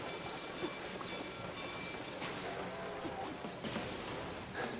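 Steady loud roar of a passing train in the video game MOUSE: P.I. for Hire, broadband rumble with faint rhythmic clatter and a few sharp bumps, sustained throughout without voices.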